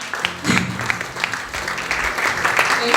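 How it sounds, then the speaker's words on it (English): An audience at a designathon pitch session gives a warm round of applause to welcome guests, moderately loud clapping with a voice over it at the start. "Please give a warm round of applause for Mrs."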